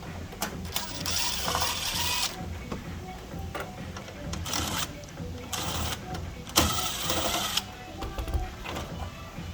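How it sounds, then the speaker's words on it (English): Screws being backed out of the covers of a raised treadmill during service, with repeated ratcheting clicks of a hand tool in bursts and some mechanical rattling; a voice is faintly present. "come at the back here and take off these screws"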